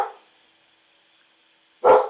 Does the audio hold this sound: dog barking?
yes